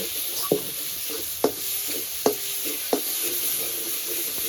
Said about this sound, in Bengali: এবার পরিমাণ মতো লবণ, হলুদ গুঁড়ো, লাল লঙ্কার গুঁড়ো, মশলাটা এবার ভালো করে কষিয়ে নেব।